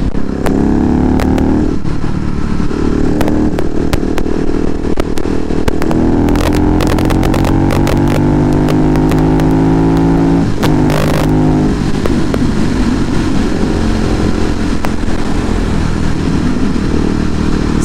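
A KTM SMC R motorcycle engine roars loud and close while riding, rising through gears in stepped revving runs with wind buffeting and brief clattering bursts.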